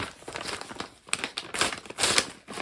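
Paper packaging is torn open by hand without scissors, giving close, crinkly ripping and crumpling bursts in quick succession with brief pauses and no speech.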